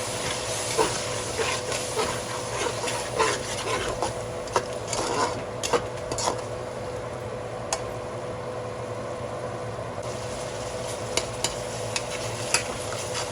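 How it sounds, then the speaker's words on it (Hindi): Masala sizzling and frying in a pan while being stirred and sautéed, for a whole chicken chargha biryani pulao, with a steady close hiss broken by repeated scraping knocks of the spoon, no talking. "इसको मैंने 5 मिनट तक भूना है।"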